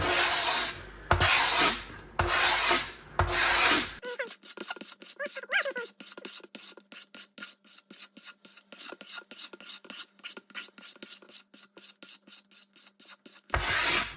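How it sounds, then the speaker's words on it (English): Old paint is scraped by hand off the side pods of a 1982 Suzuki RM 250 motorcycle: a few loud, broad rasping strokes, then a long run of quick, even, close scrapes with a gritty rub. "So yep, just use a gentle scrape."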